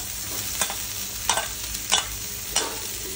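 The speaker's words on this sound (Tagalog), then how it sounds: "gisa lang po ng gisa. And, isunod na natin ang sitaw" String beans and alugbati leaves sautéed in a pan, giving a continuous sizzle with four spaced, close-up scrapes of a stirring utensil and no talking.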